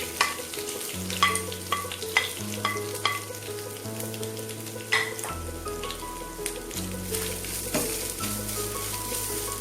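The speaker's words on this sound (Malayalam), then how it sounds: "തേങ്ങ വറക്കുമ്പോൾ നിങ്ങൾ കൈവിടാണ്ട് ഇളക്കി കൊടുക്കാൻ ശ്രദ്ധിക്കുക" Grated coconut with curry leaves and dried red chillies sizzles in a pan for Onam kootu curry, stirred continuously, with regular scraping strokes over a steady fry and soft tonal music underneath.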